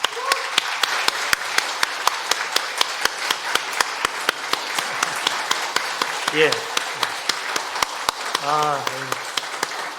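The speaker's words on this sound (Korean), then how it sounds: "우리 지휘자님, 우리 박수 한번 하겠습니다" A church congregation claps in a steady, rhythmic beat to honor the choir conductor, the sharp slaps continuing throughout while a couple of brief voices rise over it.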